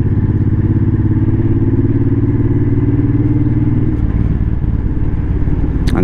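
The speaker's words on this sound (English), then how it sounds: "I'm hitting the rough spots intentionally. Bike goes over it fairly easy." A motorcycle fitted with Viking saddlebags and a tour pack rolls over rough patches of road, its engine rumbling loud and close with steady low throttle, joined by brief clatter and bumps near the end.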